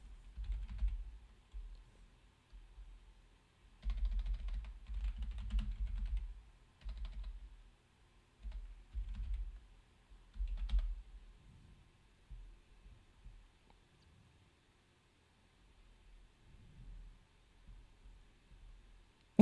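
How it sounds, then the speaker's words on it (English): Computer keyboard typing close up, in clustered bursts of soft key clicks separated by pauses, growing sparser and quieter toward the end in an otherwise silent room. "I typed in who is Ansem"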